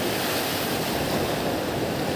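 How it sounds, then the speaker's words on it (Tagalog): Strong wind gusting along the seashore, a steady broadband roar with surf wash beneath, loud and unbroken throughout with no voices. "Sobra kay kahangin, oh."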